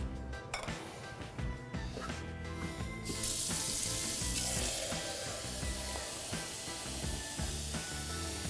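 Water pouring and splashing steadily into a pan holding millet, close and fairly loud, with a clink near the start and a brighter, hissing rush partway through. No one speaks.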